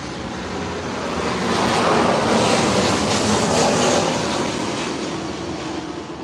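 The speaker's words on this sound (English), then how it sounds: "Marion, that plane probably just flew over your house 30 seconds before." An airplane flies overhead, a broad roaring rush that swells to a peak in the middle and then eases off, loud and continuous with no talk.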